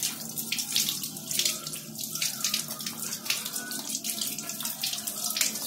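Tap water runs steadily into a sink while atta wheat flour is washed by hand, a continuous close splashing stream with no talking.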